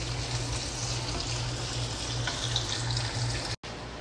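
Sliced onions sizzle in a little oil for chicken biryani, a steady, even hiss of frying that fills the whole stretch without pause.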